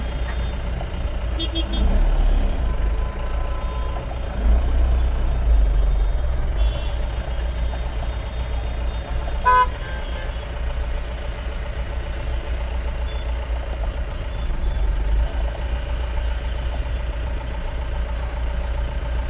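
Lorries rumble along a busy national highway near Tirupati in traffic, a steady low engine drone heard from inside a moving pickup, with occasional faint beeps and rattles.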